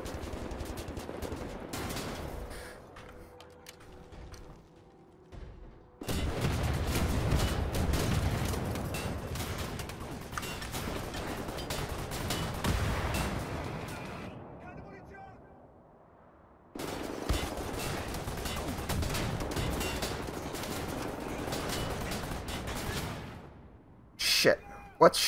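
Rapid automatic gunfire in Wolfenstein: The New Order, loud sustained bursts lasting several seconds each with quieter gaps between, and a player talking over parts of it.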